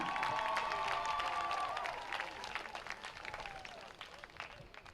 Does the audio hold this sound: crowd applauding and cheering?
yes